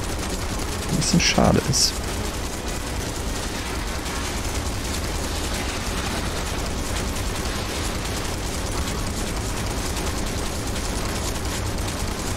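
Gunfire aimed at crates in the Final Fantasy VII Remake video game, a dense continuous stream of rapid shots under game noise, with someone talking over it.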